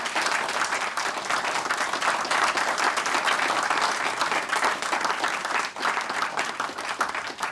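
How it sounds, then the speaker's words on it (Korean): Sustained, loud applause from a large audience at a combined Korean–US live-fire military exercise, steady dense clapping for the soldiers throughout with no break. "다시 한번 큰 격려의 박수를 부탁드립니다"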